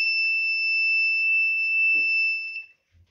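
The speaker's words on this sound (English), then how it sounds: "the buzzer is on and the red LED is on" A steady, piercing electronic buzzer tone from a solar-powered lawn mower's alarm drones continuously at close range, with a faint clunk partway through, then cuts off abruptly near the end.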